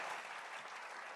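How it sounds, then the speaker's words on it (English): Audience applause for Stephen Harper, a dense, even wash of clapping that is faint and sustained throughout, with no talk over it. "Round of applause for Mr."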